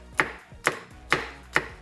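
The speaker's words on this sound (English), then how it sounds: "Please don't judge my chopping skills, because I am not a chef." Knife chopping food on a cutting board in a home kitchen while preparing Bahamian macaroni and cheese, four crisp evenly spaced chops, close and clear with no talking.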